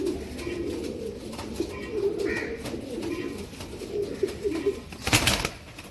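Low, soft cooing of Ambarsary pigeons repeats in throaty bursts against a busy background of rustling and faint chirps, ending with a brief rush of noise.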